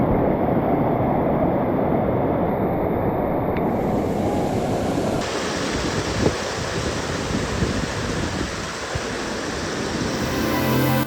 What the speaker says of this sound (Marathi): दगडावरनं पाणी सगळं खाली वाहत